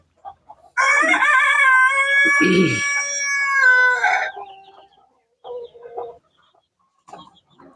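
Fighter-breed chickens on a poultry farm: a long, loud rooster crow with harmonic-rich wavering calls dominates the first half, then shorter clucks and squawks follow in scattered bursts, with no talking.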